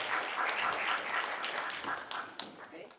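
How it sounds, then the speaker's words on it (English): A school speaking contest audience of fourth graders and families claps in a round of applause, a dense, fairly faint patter that holds steady for a few seconds before thinning out. "Let's give him another round of applause."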